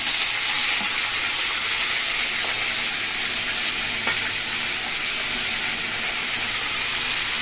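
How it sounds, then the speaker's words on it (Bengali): Potatoes and pointed gourd fry together in a pan, giving a loud, constant close-up sizzle and hiss with an occasional light stirring scrape, no one speaking. "পটল দিয়ে আরও কিছুক্ষণ ভাজবো"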